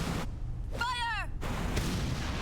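Gunfire in the video game Metal Gear Solid, loud booming blasts over a dense noisy game soundtrack, with a brief voiced shout in the middle.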